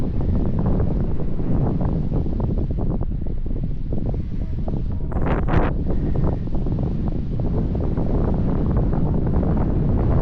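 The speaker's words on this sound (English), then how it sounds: "Oh, it's windy today." Strong wind buffets the microphone in a constant low roar while fishing, with no voices.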